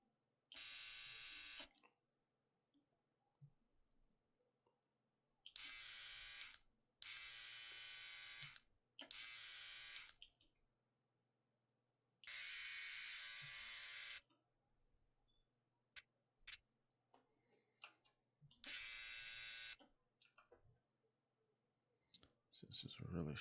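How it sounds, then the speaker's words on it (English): A buzzing electric hair trimmer, used as a barbershop sound effect, switches on and off in about five separate bursts of a second or two each, loud and close against near silence, with scattered small clicks between them. "I'm gonna go with a trimmer sound."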